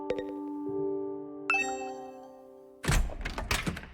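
Doorbell chime in The Hundred Line: Last Defense Academy video game, a few clear bell-like tones ringing out in sequence, then a louder burst of noisy knocking or movement at the end.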